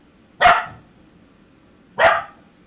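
A dog gives two sharp, loud barks about a second and a half apart, with quiet in between and no voice heard.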